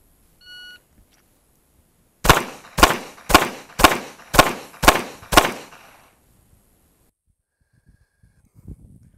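Seven pistol shots fired in quick succession during a 7-yard, 7-round timed training drill, sharp loud cracks evenly spaced about half a second apart, then quiet.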